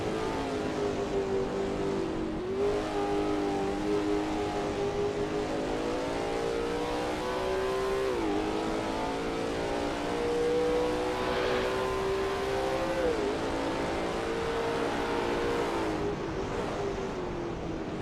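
A Lola T70 MkII Spyder race car drives at Watkins Glen, its engine droning loudly and continuously with steady revs that rise and dip as it shifts through the lap.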